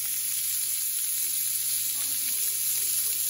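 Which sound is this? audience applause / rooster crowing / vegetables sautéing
vegetables sautéing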